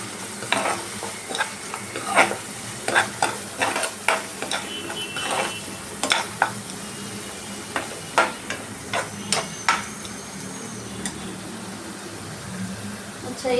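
Kashmiri chili being stirred into raw papaya curry frying in a pan, with a steady sizzle under a run of sharp spoon scrapes and taps against the pan, loud and close, no talk.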